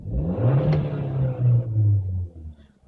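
A 2019 Hyundai Veloster Turbo engine revs in a couple of swelling rumbling pulses, heard close from outside the car, then settles and fades.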